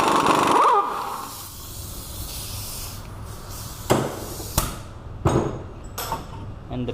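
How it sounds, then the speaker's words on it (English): Axle being knocked out of a Toyota Corolla's front hub by hand: a burst of broadband noise at first, then four or five sharp, close knocks spaced roughly a second apart over a low background. "I think I just hit it out with my hand"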